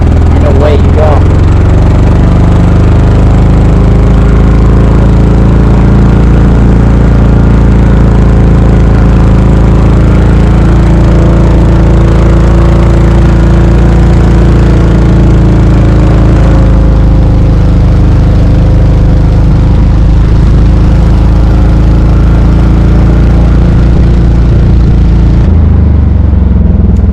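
A 1969 Cushman Town and Fairway Golfster golf cart engine runs steadily while the cart drives forward, a loud low continuous drone with a slight dip in pitch partway through, present for the whole stretch.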